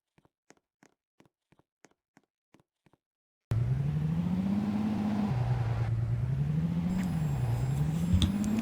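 A car in the Roblox game Rocitizens starts after a few light clicks, then drives away with a loud, steady engine whir that rises and dips in pitch as it accelerates, alone without talk.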